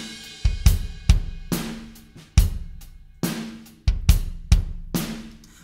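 An EZdrummer virtual drum kit plays an unprocessed loop of crisp, punchy kick and snare hits with cymbal wash in a steady groove.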